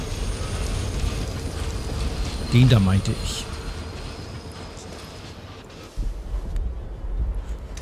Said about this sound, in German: Es kommt wieder ein Zug.